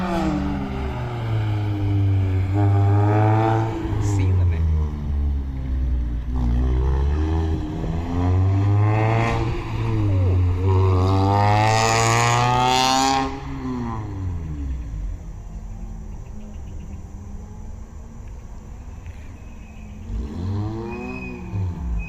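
A car on a road in Romania approaches and passes close by, its loud engine rising and falling in pitch as it revs and gears change, then fades into quieter road noise at the end, with no talk.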